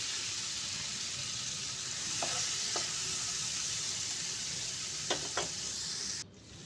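Ground spices and Kashmiri chilli powder sauté in oil for mustard rohu curry, a soft, even sizzle with a few light spoon clinks, ending abruptly.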